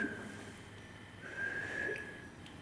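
A person whistles inside a haunted old jail, producing a thin, sustained tone that wavers, breaks off, then returns and holds over quiet room noise.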